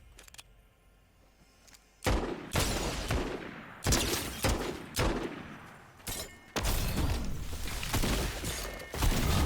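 Pistol fire in Fortnite Zero Build: a quiet stretch gives way to a string of sharp, loud shots in irregular clusters, each with a short crack and a brief echoing tail.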